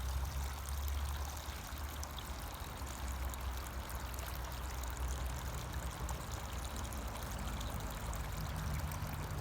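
Water running down sand channels of a stream erosion model, a steady, fairly faint trickling and pouring wash that continues evenly throughout without talk.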